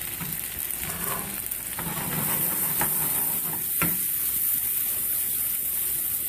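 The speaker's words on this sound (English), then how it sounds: "just want to cook your shrimp until they have just started to change opaque" Shrimp frying in a hot pan, a steady sizzle and hiss with occasional stirring scrapes, close and continuous throughout.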